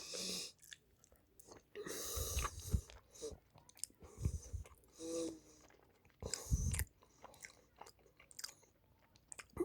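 Someone eating curry, with quiet close chewing and biting sounds coming in irregular bursts, soft crunches and clicks between them.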